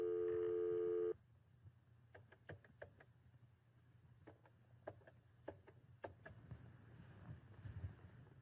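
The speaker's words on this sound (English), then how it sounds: "I'm dialing the phone number." A steady dial tone cuts off, then a series of short, sharp clicks and beeps follow at uneven intervals as a number is dialed, fairly close.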